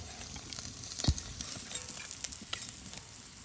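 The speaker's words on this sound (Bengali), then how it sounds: "এই যে লাল লাল করে মাছ ভাজা করে নিছি" Fish fries in hot oil in a home kitchen as a steady close sizzle, broken by one louder clatter as the pieces are turned or lifted out.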